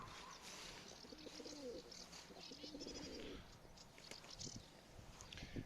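Pigeons coo near a coop in low, repeated rolling calls that come and go over steady outdoor background noise, with faint chirps from other birds.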